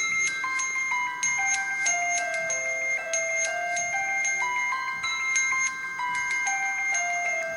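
A ringtone plays on an HTC Trophy phone: a bright, continuous melody of chiming, bell-like notes stepping up and down in a steady rhythm, loud and close, with no talk over it.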